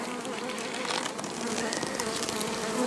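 Honey bees swarm and buzz loudly in an opened hive at a forest apiary, a dense, steady drone filling the whole stretch close to the ear.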